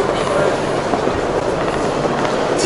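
An airport terminal train rumbles past nearby with a continuous rolling clatter and hiss of wheels on rails, loud and steady throughout.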